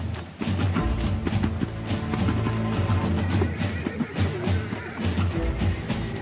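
Wild brumby horses galloping during a mountain round-up, with dense drumming hoofbeats, occasional neighs and whinnies, loud and continuous throughout.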